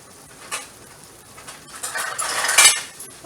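Someone rummages through a drawer of cutlery in a home kitchen, with metal utensils clinking and rattling that grows busier and louder toward the end.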